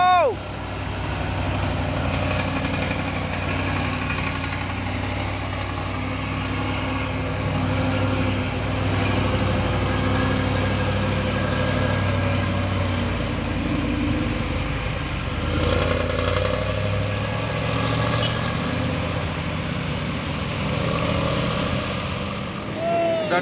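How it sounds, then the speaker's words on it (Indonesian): Two Fuso Victor CPO tanker trucks and a Hino 500 trailer truck rumble past in heavy rain on a hill road, with low diesel drone under a constant wash of rain and road noise. "Dan ini ada 2 unit truk tangki CPO pemain Fuso Victor, dan di belakangnya juga ada 1 unit truk trailer pemain Hino 500."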